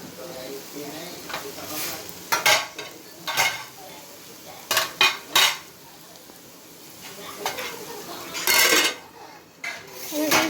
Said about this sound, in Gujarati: તો 2 મિનિટ માટે મતલબ થોડી વાર ઢાંકી દઈશું.